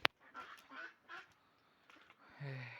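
Farmstead ducks give a few soft, faint quacks in quick succession after a sharp click, ending in a longer, lower nasal call.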